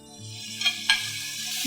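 Beef cubes sizzle steadily in a hot steel pot, a constant crackling hiss with a couple of brief clatters from stirring, close and fairly loud.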